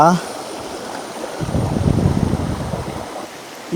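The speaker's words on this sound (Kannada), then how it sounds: "ಕೋಟೆ ಎಂಟ್ರೆನ್ಸ್ ಬಾಗ್ಲಲ್ಲೇ ಇಲ್ಲಿ ಜರಿ ಹರಿತೈತೆ. ನೋಡ್ಬೋದು ನೀರು ಹೆಂಗೆ ಹೋಗ್ತೈತೆ ಅಂತ." A small stream runs right at the entrance gate of Kavaledurga Fort, a steady rushing wash of flowing water that swells in the middle and stays fairly close throughout, with no voices.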